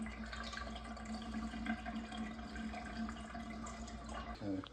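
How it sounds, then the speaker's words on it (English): Water gurgles and rushes steadily as a bathtub drains freely after a plumber clears a clog, with a constant low drone underneath throughout. "Okay, tub is draining."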